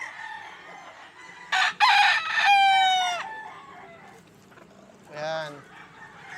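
A rooster, a fighting cock offered for sale, gives a loud close crow, with clucking and a second shorter crow following, while someone speaks briefly over the birds.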